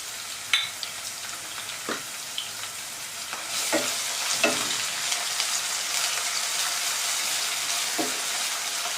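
Ginger garlic paste frying in oil in a pan for veg fried rice: a steady sizzle that thickens midway, punctuated by scattered spatula taps and scrapes, close and alone without speech.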